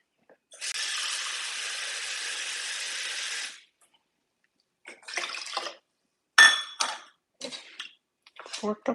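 Water pours into a cooking pot in a steady hissing stream for about three seconds, then short splashes and metallic knocks of pot and utensils follow in bursts, close and fairly loud, with no voices.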